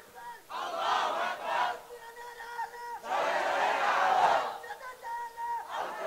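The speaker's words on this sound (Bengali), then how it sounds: "নারায়ে তাকবীর, লিল্লাহি তাকবীর, আল্লাহু আকবার" A crowd at a Quran mahfil gathering chants the takbir, Allahu Akbar, in three loud, sustained group shouts with short pauses between them.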